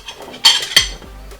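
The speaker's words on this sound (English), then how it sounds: "I'm going to chuck in the red onions" Red onions drop into a pan with two sharp, close clatters of metal, followed by a faint low rumble as they settle.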